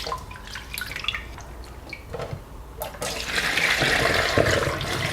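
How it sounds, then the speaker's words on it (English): Water runs and splashes while rice is rinsed for gimbap, first light dripping and trickling, then a louder steady rush of water near the end, with no voices. "when I'm cooking rice for gimbap or sushi, I will rinse 7 times"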